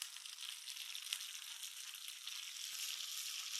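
Curry leaves crackle into hot coconut oil alongside browned shallots and dried red chillies for a tempering, making a steady, soft, bright sizzle with a couple of small pops and no talking.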